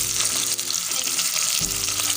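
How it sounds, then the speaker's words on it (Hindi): Bitter gourd slices fry in hot oil, a dense, continuous sizzle with crackling spatter and a brief stir, close and loud with no voices. "अब हमने उन्हें फ्राई करना शुरू कर दिया है"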